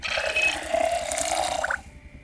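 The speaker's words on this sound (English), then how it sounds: "Filled the bowl with water." Water poured into a bowl in Project Zomboid, a short trickling, dripping pour with a faint mechanical clicking, lasting under two seconds before cutting off.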